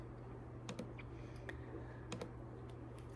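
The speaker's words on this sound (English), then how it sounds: "So I'm going to click to the next slide." A few light computer clicks and soft key taps, close and quiet, with a sharper click right at the end, the last one advancing a presentation to its next slide; no voices.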